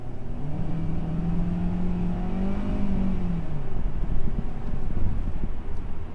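A 2020 Hyundai Elantra engine pulls steadily under acceleration, with a low drone that rises in pitch and then falls back, partly masked by constant wind noise.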